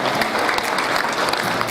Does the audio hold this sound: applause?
yes